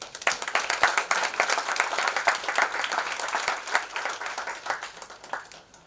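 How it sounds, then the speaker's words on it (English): Audience applause for a guest speaker at a professional seminar on merger valuation, a dense, steady round of clapping from a room full of people that carries on for the whole stretch with no talk over it. "A big round of applause for the ma'am."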